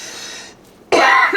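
A single dry, sharp cough from a person with a parched throat, loud and close, coming after a brief quieter stretch and standing alone without talk.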